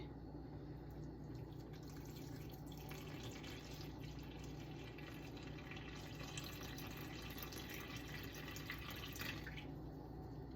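Water pours steadily into a bowl of flour for sourdough dough, a faint, continuous splashing trickle in a quiet kitchen with no talking.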